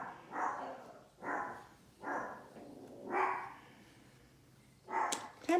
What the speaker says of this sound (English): And that right there is the Chihuahua.